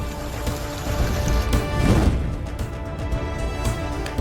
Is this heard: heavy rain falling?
yes